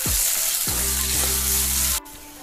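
Ginger, garlic and curry leaves sizzle hard in hot oil, a loud continuous frying hiss with a clink or two of the utensil, close up, until the sizzle quiets suddenly near the end.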